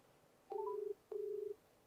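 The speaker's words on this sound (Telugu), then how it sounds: "రింగ్ అవుతుంది చూద్దాం ఒకసారి" A phone call rings out after dialing: two short electronic ringback tones, each about half a second, separated by a pause, faint and close with a quiet background and no talk.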